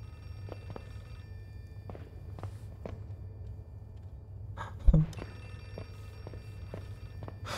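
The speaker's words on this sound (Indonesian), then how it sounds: "Telepon. Mana telepon?" A telephone rings faintly and steadily in the horror video game Outlast 2, under a low ambient hum, with soft footsteps and occasional thuds around it.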